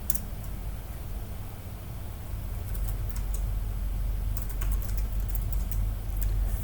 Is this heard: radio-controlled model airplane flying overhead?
no